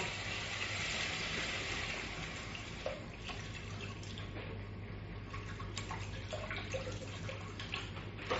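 Water running and splashing steadily into a fish curry, with a few small drips and plops, close by and moderately quiet.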